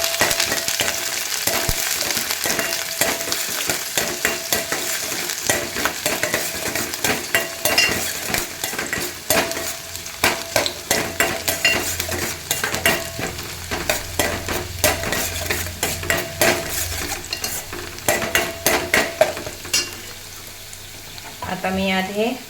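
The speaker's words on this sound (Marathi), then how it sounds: "कांदा घालून मी छान असं परतून घेत आहे" Chopped onion sizzles steadily in hot oil for a Malvani fish curry, with a constant frying hiss and repeated scraping strokes of a spoon stirring the pan, close up and continuous.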